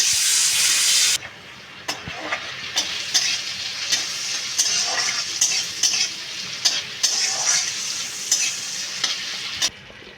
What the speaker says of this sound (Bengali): এবার চিংড়ি মাছটা ভেজে তুলে নেব